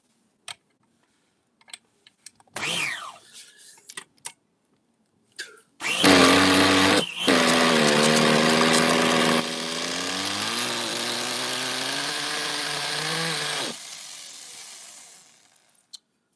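Small OS MAX 21RZ nitro model engine with boost chamber: preceded by faint clicks and a brief starting attempt, it fires up and runs loud and steady for about eight seconds, its buzzing pitch shifting as the throttle changes, then cuts out abruptly.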